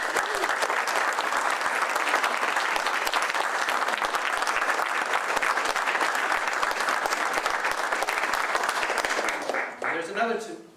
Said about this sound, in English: Can we get a round of applause for the boards and committees